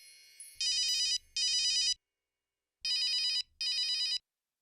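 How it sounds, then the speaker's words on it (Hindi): A telephone rings in four electronic bursts, two close together, a pause, then two more, clear and alone in a quiet room with a faint low hum under the first pair. "इस फोन को भी अभी बजना था।"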